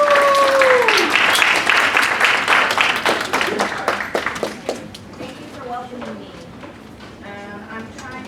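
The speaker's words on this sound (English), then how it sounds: "can we give her a round of applause?" A room full of attendees at a student scholarship orientation breaks into loud, dense applause that thins out into scattered claps, with a voice talking over the start.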